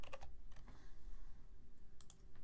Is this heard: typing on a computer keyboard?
yes